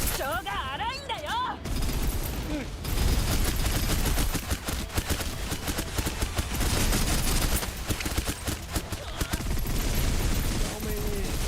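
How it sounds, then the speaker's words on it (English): Heavy gunfire from many shooters at once in the video game Snowbreak: Containment Zone, a dense sustained barrage of overlapping bursts with speech mixed in. "many people shoot at the same time?"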